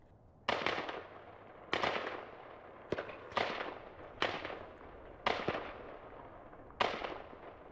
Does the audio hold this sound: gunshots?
yes